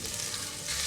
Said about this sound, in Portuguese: Com o meu óleo já aquecido, eu vou colocar na panela 3 dentes de alho bem amassadinhos